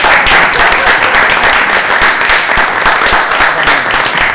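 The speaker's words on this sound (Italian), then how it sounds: "Facciamoci un applauso." Dense, steady applause from an audience at an award ceremony, loud and close, continuous throughout with no speech over it.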